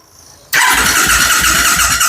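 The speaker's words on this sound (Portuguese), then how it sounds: "vou dar partida na moto" Yamaha Dragstar 650 (XVS650) motorcycle cranking on its starter with the pulse coil connector removed: after a brief quiet moment a loud, steady mechanical whirring churn runs on without catching, close up.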